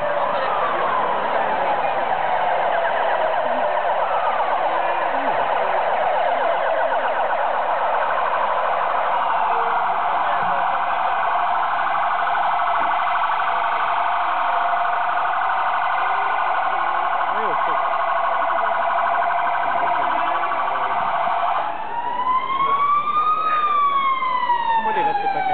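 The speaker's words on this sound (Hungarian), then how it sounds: "Pár perccel a bejelentés után megérkezett a helyszínre a 3 mentőautó, illetve a műszaki mentőerők is jönnek velünk párhuzamosan." Wailing sirens of three ambulances arriving at a staged crash rescue demonstration at a festival, loud and continuous with rising and falling sweeps, a second siren pattern joining near the end.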